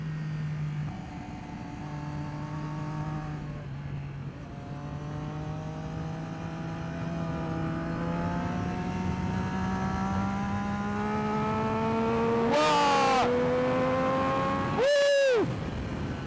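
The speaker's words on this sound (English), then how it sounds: "That sound is amazing on these Triumphs." A Triumph three-cylinder motorcycle revs hard around New Jersey Motorsports Park, its engine note climbing steadily through the gears, then two sharp high-pitched rev bursts close by near the end.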